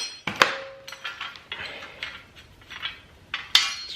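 Spring clamps come off a car front suspension strut with sharp metallic clanks and clinks, a couple of loud hits and scattered lighter taps close by.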